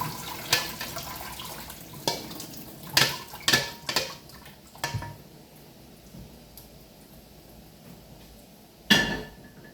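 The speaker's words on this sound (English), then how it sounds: "I'm gonna strain the veggies into this strainer." Cooked vegetables poured into a strainer in a kitchen sink, with a handful of sharp splashes and clatters spread across several seconds, separated by quieter running water, and one last loud dump near the end.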